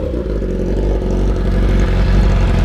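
Suzuki GSX-R1000 sports motorcycle engine running loud and close, a steady, dense low-pitched roar with slight revving swells throughout, no voices.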